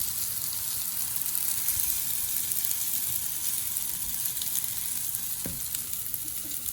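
Meat sizzles on a Lao-style daht seen barbecue with a steady, close, crackling hiss and a brief low thump near the end, with no talking.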